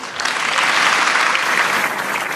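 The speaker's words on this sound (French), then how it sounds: "Pierre de Villiers a quitté l'état-major des forces armées sous les applaudissements de ses troupes." Troops give sustained, loud applause as French armed forces chief of staff Pierre de Villiers departs headquarters, a dense, even clapping that swells briefly and holds steady to the end.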